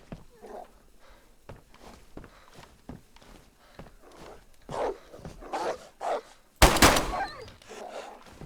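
A dog in the winter map of the video game DayZ barks and growls in short bursts amid footsteps. A sharp gunshot cracks near the end, loud and close.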